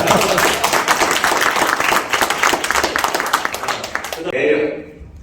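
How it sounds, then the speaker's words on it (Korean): A breakfast-forum audience breaks into loud, close applause, with many hands clapping briskly together before the sound drops off sharply near the end. "자 이대명 목소리 박수 한번 주세요."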